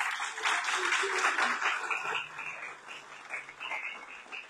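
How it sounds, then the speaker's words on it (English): Steady applause from a crowd, a dense wash of clapping that holds for several seconds and slowly thins toward the end. "If you can do another round of applause"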